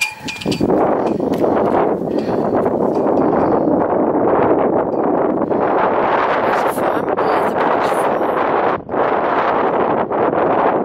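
Steady, loud wind buffeting the microphone throughout, a constant roaring rumble with brief dips, no talking.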